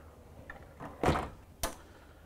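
A solid privacy door with smoked glass in a Newmar Dutch Star motorhome shuts with a dull thunk, followed moments later by a second sharp knock, quiet surroundings otherwise.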